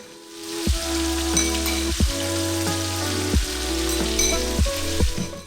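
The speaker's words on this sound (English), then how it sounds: "And then put in the baby shrimp, cook it for around 30 seconds." Pork belly and baby shrimp sizzle steadily in a hot pan as pumpkin rice is prepared, a continuous fry hiss punctuated by several sharp clinks and scrapes of a spatula against the pan.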